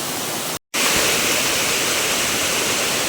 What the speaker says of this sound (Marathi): हा निसर्गरम्य धबधबा